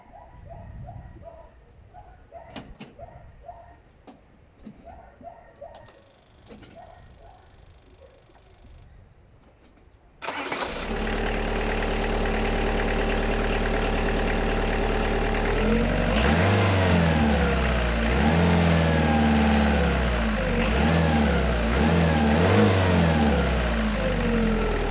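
A Peugeot Citroen DW8 1.9 diesel engine on its first morning start: quiet workshop sounds with faint birds, then the engine fires at about ten seconds into a loud, steady idle, followed by repeated rising and falling revs close by.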